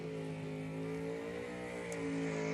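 A Buick drag car at a drag strip holds a steady, droning engine tone at a distance, with a sustained rising pitch as it runs down the track.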